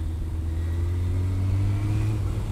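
Steady idle of a Suzuki RF900 motorcycle engine at night after carburetor cleaning, a low continuous rumble with slight swells in revs and no talking.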